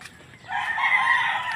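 A rooster crows once, a loud drawn-out call that starts after a brief quiet moment and holds steady to the end.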